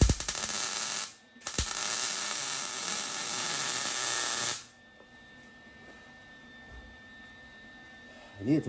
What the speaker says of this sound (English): we'll put a little weld on the outside corners